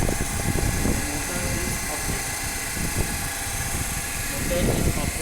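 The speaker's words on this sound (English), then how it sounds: "Motor is operating." A DC shunt motor runs unloaded on a 220-volt armature supply in a lab, giving off a steady whirring hum with a faint high whine. Background voices murmur nearby.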